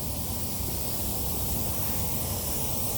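Lawn sprinklers force water up through cracks in a sidewalk at night, a steady, close, broadband hiss of spray that holds at an even level throughout with no talking.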